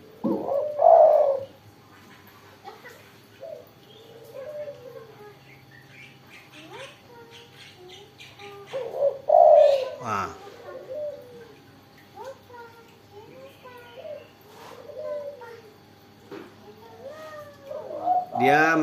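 A spotted dove in breeding season coos close by in repeated soft, rhythmic phrases, with a few louder flutters in between, while a person talks quietly.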